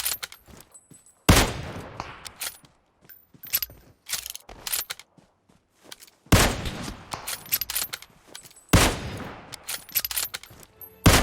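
Gunfire in PUBG Mobile comes in three loud sharp bursts of rapid shots, separated by quieter clicks and mechanical rattles of weapon handling, with no talk over it.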